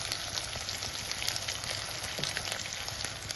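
Spice powders frying in a pan for a spicy sardine curry, giving a steady, soft, even sizzle with faint crackles throughout and no talking.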